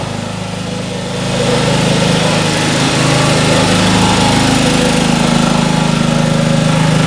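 A portable 2.7 kW generator engine runs loud and close, a steady droning hum that swells slightly after the first second and then holds constant without talk.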